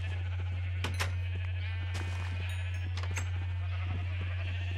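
Minecraft sheep bleat a few times in the game, short nasal cries spaced apart over a steady low hum, moderately loud with no talking.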